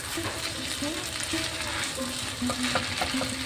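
Street-style chow mein stir-fried in a pan, a dense close sizzle with repeated scraping stirs and metallic taps of the utensil, continuous and fairly loud.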